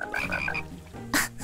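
A frog in the cozy game Capybara Spa lets out a clear, close croak, a short burst of repeated chirpy pulses followed by a brief pause and one more sharp call.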